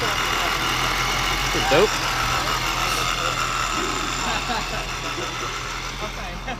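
Supercharged Tezza 350 engine idling nearby at an outdoor car meet, a steady rumbling drone with a brief rise in level, while people talk over it.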